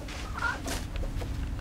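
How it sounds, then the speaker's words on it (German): Chicken clucking in the video game REKA, a short, close call that rises over a steady low hum of game ambience, with no talking. "wieso läuft das Huhn eigentlich hier draußen rum?"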